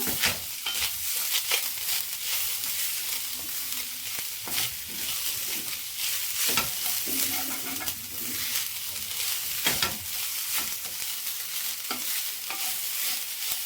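Grated coconut mixture fried in a pan for a sweet mango kadubu, giving a continuous close sizzle broken by frequent sharp scrapes and taps of stirring at an uneven pace, with nobody speaking.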